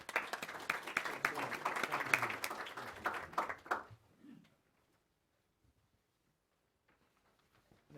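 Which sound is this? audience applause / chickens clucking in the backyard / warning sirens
audience applause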